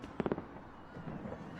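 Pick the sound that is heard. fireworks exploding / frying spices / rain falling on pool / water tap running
fireworks exploding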